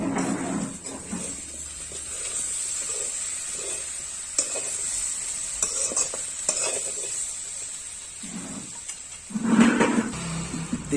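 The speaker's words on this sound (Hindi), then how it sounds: "इसमें डाल देंगे हमारा जो काट के रखे थे केला। अब इसे 5 से 10 मिनट तक अच्छे से भून लेंगे।" Banana and potato pieces fry and sizzle in a pan for a banana sabzi, with steady close sizzling and repeated scraping stirs of a spoon against the metal, growing louder near the end.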